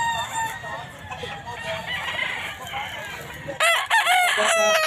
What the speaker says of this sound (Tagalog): tatlo na lang ang abutan nating manok ni Boss Joey